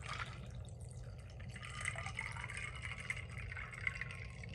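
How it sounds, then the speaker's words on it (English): Raspberry leaf watermelon tea poured into a cup, a steady close liquid trickle and splash running throughout with faint drips, no talking. "We're gonna go ahead and pour this in."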